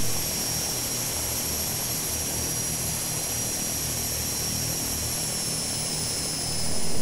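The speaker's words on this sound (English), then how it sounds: "Bring our props forward just a little bit here so we can get the prop RPM where we want it" Steady, loud drone of propeller airplane engines with a high whine on top as the aircraft taxis toward runway 10, continuous throughout with no voices, the engines pushed up slightly in RPM.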